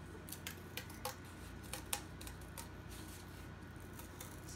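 Scissors cutting cardboard for puppet making: a series of quiet, crisp snips at an uneven rhythm over a soft background hiss.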